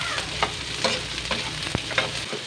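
Garlic and onion sauté in a pan, a close, bright sizzle broken by repeated scraping stirs and utensil taps against the pan.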